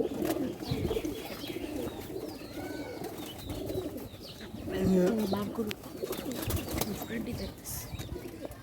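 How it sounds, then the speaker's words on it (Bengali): Pigeons, including a breeding bird, coo softly at close range with low throaty calls amid light rustling, flapping and faint background bird chirps. "এই যে একটা কবুতর বন্ধুরা, এই যে একটা কবুতর বাঘা কবুতর"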